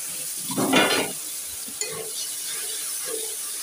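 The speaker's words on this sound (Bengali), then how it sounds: "মশলা কষিয়ে নিচ্ছি" Fresh ground ginger, garlic and cumin paste sautés in a pan, a short burst of sizzling and spoon scraping near the start, then a quieter hiss with a few soft stirring knocks.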